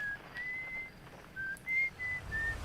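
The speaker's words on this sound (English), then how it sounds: "Now that's not an instrument, that's just whistling." Whistling in the video game Outer Wilds: a thin, faint, high melodic tune in short held notes and phrases over a soft background hum, with no talking.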